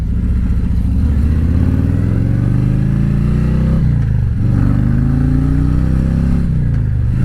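A motorcycle fitted with a new Screamin Eagle clutch kit rides along back roads, its engine loud and close, rising in pitch through gears with brief drops at each shift.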